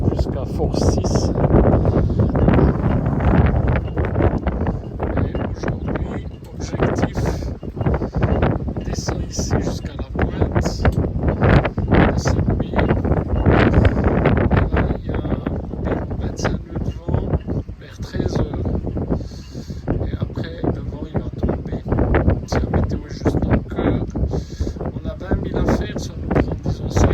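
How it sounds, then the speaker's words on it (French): Strong gusty wind up to force 6 on a sailboat off Greece, a loud continuous roar buffeting the microphone with surging gusts, while a person talks over it at intervals. "Voilà, ici le vent est particulièrement rafaleux"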